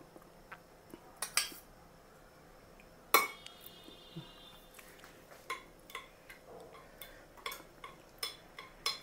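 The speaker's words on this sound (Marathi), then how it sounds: "दही थोडंसं फेटून घ्यायचं" A utensil beats yogurt in a bowl while a mutton chops marinade is being prepared, giving faint, irregular metallic clinks and taps, some in quick clusters and others spaced apart, in an otherwise quiet kitchen.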